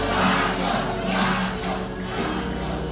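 A large crowd of loyalists cheers at the presidential palace in Manila. The roar is loud and dense, swelling in waves, and nobody speaks over it.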